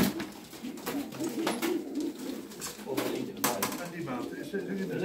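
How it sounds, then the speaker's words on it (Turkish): Racing pigeons coo at a club loft, soft repeated throaty calls heard close amid people talking in the background. "Buraya kuşlar giriyor arkadaşlar."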